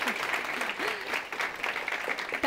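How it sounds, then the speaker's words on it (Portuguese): Steady applause from an audience at a Brazilian Chamber of Deputies event on waste and recycling, continuous and fairly close, with faint voices and chatter running underneath. "Palmas para ele, gente."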